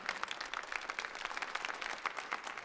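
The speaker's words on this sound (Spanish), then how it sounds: "¿Les podemos dar un aplauso a los pastores de la casa," A church audience claps and applauds steadily throughout, a dense patter of many hands at moderate volume.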